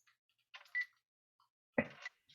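A phone gives a few short electronic beeps and tones while a ringing call is hung up, brief bursts separated by silence, close and fairly quiet.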